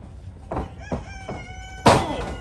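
At an indie wrestling show in Sacramento, a rooster crows in a few rising calls, ending with a louder, sharper burst near the end, heard over crowd ambience without talk.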